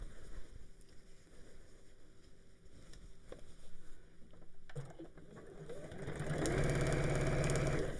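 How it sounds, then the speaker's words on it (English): A sewing machine stitches across the top of bag linings, quiet mechanical whirring that swells into a loud, steady close motor run in the last couple of seconds, no talking. "So that goes together with that, and just sew across the top."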